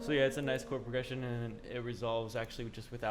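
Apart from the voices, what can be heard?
No everyday noise stands out behind the speech.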